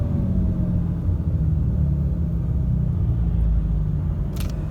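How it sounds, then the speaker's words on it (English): Deep, steady rumble of an exhaust brake on a 2019 RAM 3500 dually truck as it downshifts, a constant low drone held loud and close throughout with no talk. "That's the exhaust brake right there."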